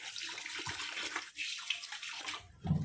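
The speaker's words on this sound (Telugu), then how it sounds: "చేపలని నీట్గా వాష్ చేసుకుంటేనే కర్రీ అనేది స్మెల్ లేకుండా టేస్టీగా రెడీ అవుతుంది" Fish pieces being washed in water in a kitchen, with a steady splashing, running-water wash close to the microphone that swells into a louder slosh at the end; no talking.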